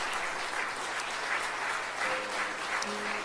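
A church congregation applauds steadily at a Korean installation service honoring a retiring senior pastor, a dense, even wash of clapping with faint voices underneath.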